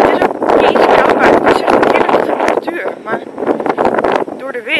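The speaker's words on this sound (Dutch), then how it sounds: "Maar het stormt echt hard." Strong wind from Storm Dennis buffets the microphone in loud roaring gusts while a person talks over it.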